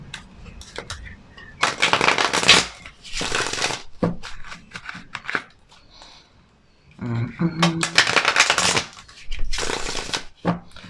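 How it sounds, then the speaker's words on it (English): Tarot cards are shuffled in quick riffling bursts, with crisp fluttering rattles separated by short pauses. "Give them a quick shuffle."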